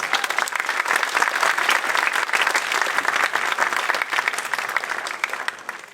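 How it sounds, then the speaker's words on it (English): An audience gives a round of applause for a long-established Australian concert band: dense, steady clapping at moderate volume that fills the whole stretch and thins slightly near the end. "So that deserves a round of applause."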